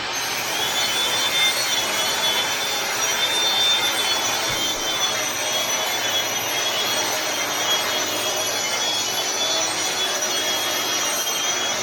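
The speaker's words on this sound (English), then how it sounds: "A little battery grinder from DeWalt. And he just grinds everything smooth." A small DeWalt battery hand grinder runs steadily across a flood-damaged basement concrete floor, giving a continuous close, loud abrasive hiss and rasp with no pauses and no voices.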